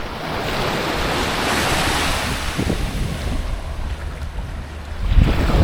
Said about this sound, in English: So this is the beautiful Phang Nga beach in Railay.